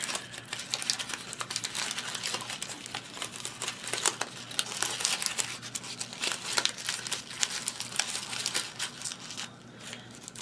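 Paper card layers for a Mother's Day craft are folded and pinched toward the center, making continuous close crinkling and crumpling with soft rustles and small taps.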